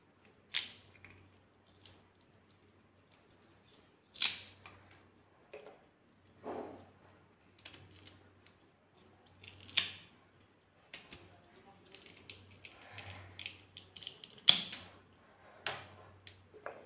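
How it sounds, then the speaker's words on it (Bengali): A knife cuts through food with sparse, sharp chopping taps and scraping slices at irregular intervals, fairly quiet, close to the microphone, with faint background hum between cuts. "এগুলোকে ছুরির সাহায্যে কেটে নেবো"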